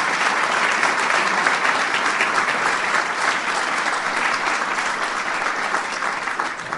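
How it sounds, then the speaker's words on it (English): An audience at a speech by President Obama gives a loud, sustained round of applause, a thick, continuous roar of many hands clapping at steady strength throughout. "Give them a big round of applause."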